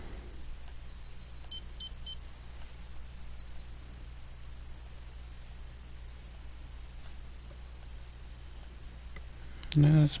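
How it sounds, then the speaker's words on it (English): In the Fishing Planet video game, three quick, faint, high beeps sound in a row early on over a low steady hum, and a brief louder bump follows near the end. "No, it's beeping coming from the middle."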